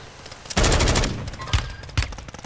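AK rifle fire in a first-person shooter video game, loud bursts of rapid automatic shots that start abruptly, followed by a couple of sharper single cracks near the end, with no talking.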